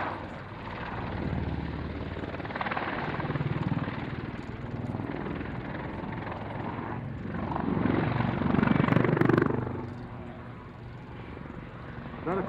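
A helicopter performing a flying display at an airshow, its rotor chop and engine drone continuing throughout, swelling louder as it passes close before easing off.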